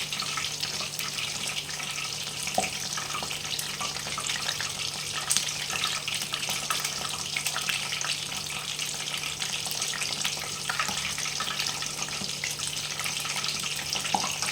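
Washed, still-wet pumpkin flowers coated in gram flour batter fry in hot oil, giving a steady, fairly quiet crackling sizzle with scattered pops and a faint low hum beneath, unbroken throughout.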